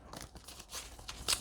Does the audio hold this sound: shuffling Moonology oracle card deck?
yes